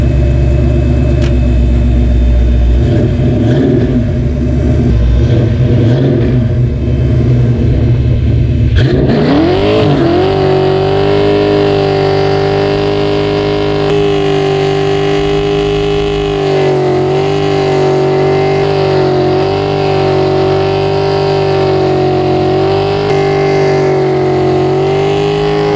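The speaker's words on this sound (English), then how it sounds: "we're going to do a MAC Flowpath muffler burnout where you can hear that thing starting to sing" A car doing a burnout through 1990s MAC Flowpath dual exhaust mufflers, loud tire-spinning roar and rising engine revs that settle into a sustained, singing high-rpm exhaust drone.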